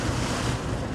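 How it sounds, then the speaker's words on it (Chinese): Water surges in waves along a ditch, a loud, continuous rushing wash with no break, close to the microphone and with no voices. "为什么水沟会有海浪水沟有海浪"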